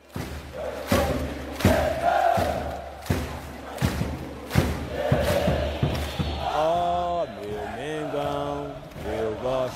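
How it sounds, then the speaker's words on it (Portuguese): Flamengo supporters chant in a packed stadium during a Brazilian championship match against São Paulo, with rhythmic drum thumps under a massed crowd roar, then a sustained swelling sung chant from thousands of voices. "A torcida então cantou como nunca."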